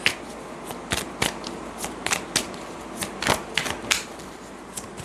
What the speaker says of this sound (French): Je vais les brasser autrement.